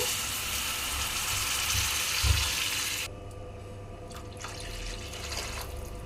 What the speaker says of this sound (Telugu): ఇందులో అయితే కొంచెం వాటర్ పోసేసుకుంటున్నాను